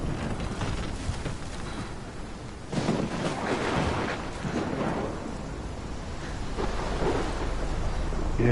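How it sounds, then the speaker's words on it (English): A heavy thunderstorm in Life Is Strange, set in Oregon, with steady rain noise and several deep rolling thunder surges, loud and close. "I've never seen a storm like this in Oregon."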